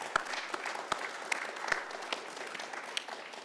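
A small group applauding themselves with quiet, scattered clapping and a few sharper individual claps standing out, fairly faint and thin.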